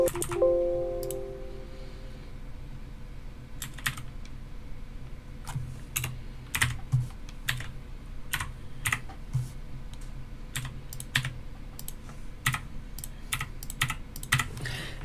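Close computer keyboard typing, scattered crisp key clicks in short bursts and single taps over a faint steady hum, entering network address data in Windows 10, with no talk.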